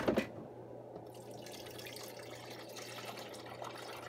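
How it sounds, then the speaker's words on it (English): Regular tap water running steadily from a faucet in Pittsburgh, a soft continuous splashing stream under a low hum, close and quiet after a brief clatter at the start, with no talking. "It's just regular tap water."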